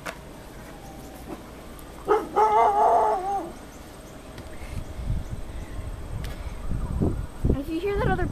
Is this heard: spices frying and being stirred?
no